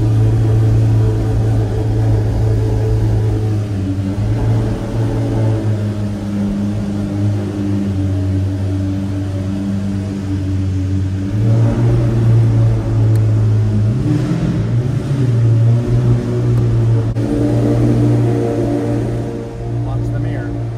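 A modified car's engine runs loud and close in first gear, holding a steady mid-pitched drone that dips and then climbs as the revs rise, while someone talks over it.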